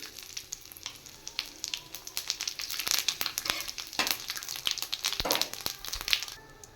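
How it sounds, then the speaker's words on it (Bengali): Two dried red chillies, a bay leaf and whole white cumin spit in hot oil, a dense run of sharp crackles and pops that grows busier and louder before easing off. "এবার দিয়ে দেবো তেলে শুকনো লঙ্কা 2টো আর তেজপাতা, আর তার সাথে দেব গোটা সাদা জিরে"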